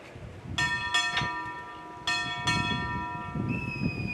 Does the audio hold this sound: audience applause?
no